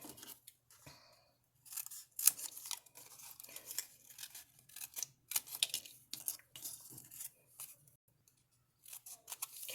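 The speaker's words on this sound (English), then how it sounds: "I'm going to cut this off." Scissors cut through paper printable junk journal pieces, making quiet, close, crisp snips in uneven runs with short pauses between cuts.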